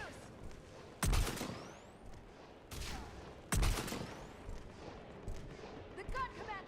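A mounted gun fires in the video game Mass Effect 3. It lets off three loud, punchy bursts about a second apart, each with a ringing tail, over a low rumbling battle backdrop.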